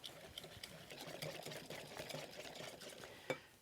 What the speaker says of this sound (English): And I'll just whisk those in.